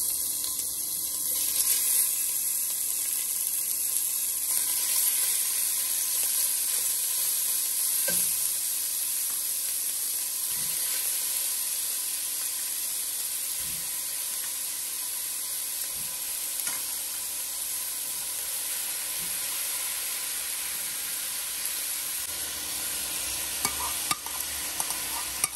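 Meat frying in a little hot oil in a pot on a stove gives a faint, continuous sizzle with a low electrical hum and a few soft knocks throughout.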